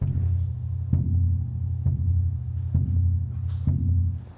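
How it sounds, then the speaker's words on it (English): Shamisen plucked softly to evoke gently falling snow, a steady low sustained drone marked by regular soft plucks about once a second, muffled and continuous with no voices. "So the sound continues like snowfall"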